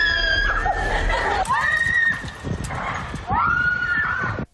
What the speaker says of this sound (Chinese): 接着惊声尖叫不断传出